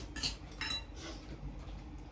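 A cooking pot of dal is gripped with metal tongs, giving two or three faint, close metallic clinks near the start, then quiet handling.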